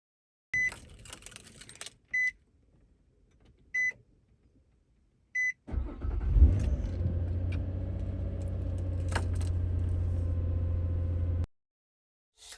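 A car with a healthy battery starts right up with no clicking: a few chimes from the dash, then the engine cranks and settles into a steady idle hum before cutting off.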